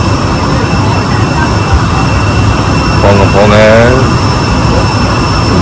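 A Scoot budget airliner's jet engine at the airport gives a loud, constant, close roar throughout, and someone speaks briefly over it.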